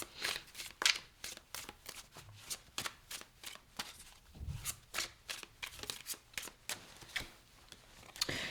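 Tarot cards being shuffled up close, a rapid run of crisp riffling flicks and soft slaps repeating through the whole stretch with no talking.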